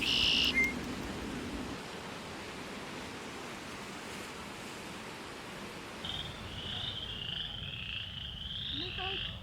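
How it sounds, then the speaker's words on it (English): Frogs croak amid a steady hiss of night ambience at the Indiana Dunes, their calls overlapping in a dense chorus with a higher trilling call joining later. "All the frog noises."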